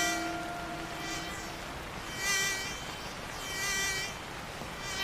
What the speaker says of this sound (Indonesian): suara dengungan ribuan serangga yang berasal dari dalam